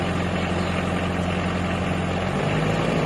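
A Mitsubishi L300 diesel engine runs steadily and loud, nearby, its low heavy drone holding even before shifting slightly in pitch as it is revved toward 2,000 RPM.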